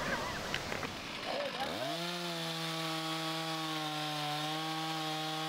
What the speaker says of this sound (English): This is Art, our arborist, running his 460 steel, dropping a large aspen tree